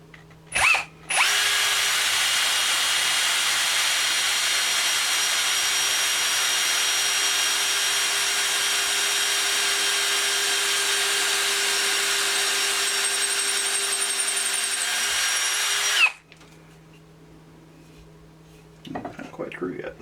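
A power drill fitted with a 1/4 inch bit bores into a scrap piece of wood, its loud, steady whine running unbroken for about fifteen seconds before cutting out to near quiet and a few faint clicks.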